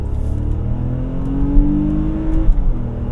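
An Infiniti SUV engine revs steadily higher with a rising drone toward its 7,000 RPM redline, then drops off abruptly, heard up close with a constant rumble underneath.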